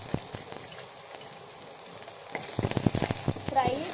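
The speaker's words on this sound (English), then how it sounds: "So I'm going to add another tablespoon of ghee, one tablespoon of chopped coconut." Chopped coconut fries in ghee with a light crackling sizzle for a traditional Iyengar-style akkaravadisal sweet. Sharp pops and spatters grow busier toward the end.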